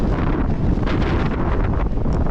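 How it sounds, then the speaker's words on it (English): Strong wind gusts on the exposed Clingmans Dome trail buffet the microphone with a loud, continuous roar that swells and surges without a break. "So windy coming in from the front."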